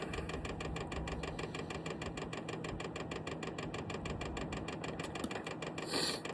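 A Vevor diesel heater starts up and runs, giving a steady mechanical hum with rapid rhythmic ticking pulses throughout. It is close and constant with no speech.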